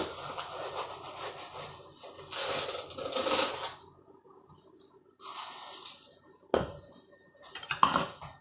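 Granulated sugar pours and scrapes into softened butter in a mixing bowl for chocolate chip cookies, with gritty rustling bursts, spatula scrapes and a couple of sharp clinks against the bowl.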